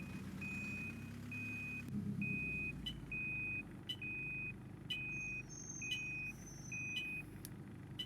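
A London Citybus C200 bus backs up in the OMSI 2 simulator. Its high reversing beeper repeats about ten times at a steady, even pace over a rumbling engine, with a few faint clicks and chimes mixed in.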